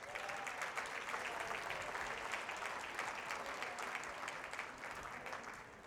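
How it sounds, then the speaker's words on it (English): Sustained applause from a room full of guests at an awards dinner, honoring Senator Kimberly Jean-Pierre of Suffolk County; dense, steady clapping that carries evenly throughout and tapers slightly near the end. "Please give them all a round of applause"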